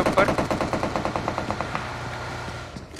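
Rapid automatic weapon fire in PUBG Mobile, a steady burst of a dozen or more close shots that gradually thins out and fades, leaving a softer tail near the end.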